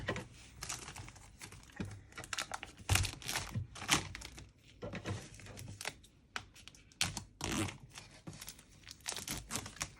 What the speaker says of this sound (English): It feels so nice to tear off this plastic.